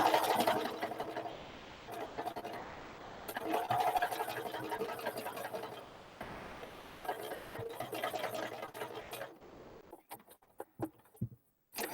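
A sewing machine stitches fabric for a shabby chic clutch in bursts of rapid needle chatter with brief pauses as the fabric is shifted, close and moderately quiet, ending in a few short clicks before falling silent.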